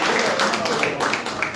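Scattered audience clapping at a BJP felicitation ceremony in Jammu and Kashmir honouring freedom fighters, with uneven claps mixed under a talking voice, moderately close and brief.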